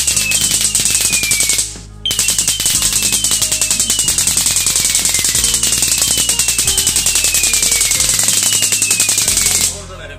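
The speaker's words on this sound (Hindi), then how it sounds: "यह है लड़ी वाला पटाखा, बिजली वाला पटाखा।" An electronic firecracker string with LED lights and remote pops rapidly and continuously like a firecracker string, loud and machine-gun fast with a warbling tone, pausing briefly once before rattling on.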